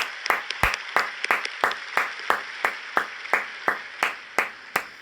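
A congregation at a Nazareno fiesta claps in unison, sharp even beats roughly four per second, steady and fairly close, with no voices over it.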